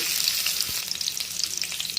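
A large onion fries in hot oil in a pan for upma, giving a close, steady sizzle with some crackling and stirring. No one speaks.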